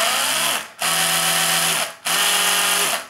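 An Oral-B Genius electric toothbrush by Braun runs in a different brushing mode with a loud, close, steady motor buzz. The buzz briefly cuts out twice and then resumes with a changed pitch.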